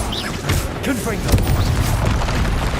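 A Confringo fire spell explosion in Hogwarts Legacy on hard mode, heard as a heavy boom and crash within dense, continuous combat noise, with a voice shouting spell names throughout.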